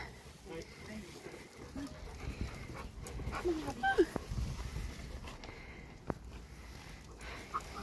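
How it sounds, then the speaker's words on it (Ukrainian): Dogs pant and sniff close by in soft, rhythmic breaths with occasional snuffles, mixed with people talking in the background. "Які собачки."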